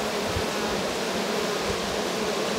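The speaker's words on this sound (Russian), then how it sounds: "Пчелы уже волнуются." Buckfast bees buzz in a dense, steady hum, close and continuous with no voices.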